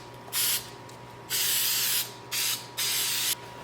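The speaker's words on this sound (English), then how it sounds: "I laid them out and sprayed 3M77 on the backs" Short hissing bursts of 3M77 spray adhesive from an aerosol can, four separate spritzes of uneven length with brief pauses between, close and loud against quiet room noise.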